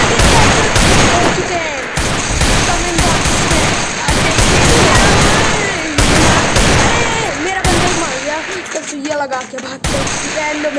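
Rapid gunfire crackles in bursts through a Free Fire match, with shots landing as headshots. The volleys are loud and repeated, and a voice talks over them throughout.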